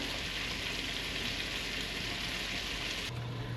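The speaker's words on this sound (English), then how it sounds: "just drop the onions in" Onions frying in a pan while cooking trout, a dense, even sizzle and crackle that holds steady throughout, close up and alone.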